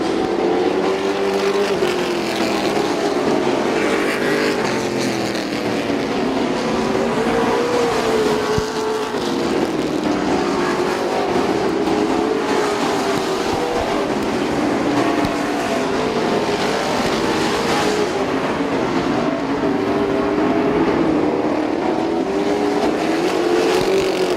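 Race cars circle a short speedway oval, engines roaring loudly and continuously as the pitch rises and falls with each pass and the pack sweeps around.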